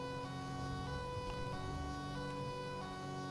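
An ambulance siren in GTA 5 wails steadily at a distance, its tones sustained and even throughout, with the low rumble of traffic underneath and no voices.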